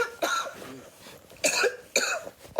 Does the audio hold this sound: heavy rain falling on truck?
no